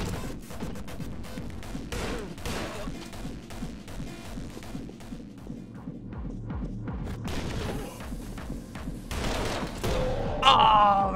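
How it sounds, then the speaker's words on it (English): Gunfire in a small indie itch.io game, a run of quick shots in bursts over a low rumbling backdrop, with someone speaking now and then. "No need to keep shooting."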